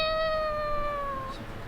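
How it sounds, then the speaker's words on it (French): A cat gives a single drawn-out meow with a slowly falling pitch, fairly close and clear against faint background noise, with no talking. "Waouh, on a un chat qui vient de passer"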